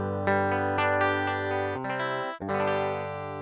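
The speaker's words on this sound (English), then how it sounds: "This is the sound of RealLPC with no effects." Clean virtual blues guitar from the RealLPC plugin with no effects, playing a short run of sustained notes and chords with clear plucked attacks, dry and close, with no talking.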